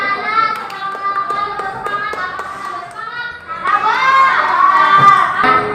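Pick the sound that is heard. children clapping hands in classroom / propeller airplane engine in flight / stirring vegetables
children clapping hands in classroom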